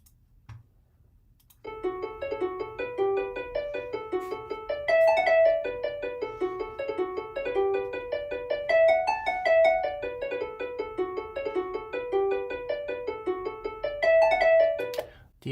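A simulated tune plays in ABC.js's old style of grace notes: a thin synthetic melody with quick ornamented notes in a steady, repeating lilt that runs for about fourteen seconds after a brief quiet start.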